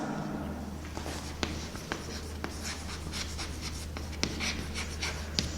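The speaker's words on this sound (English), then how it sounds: "So let me write simple again." Chalk or marker writing on a classroom board, steady scratchy strokes with sharp taps between letters, continuous over a low background hum, no talking.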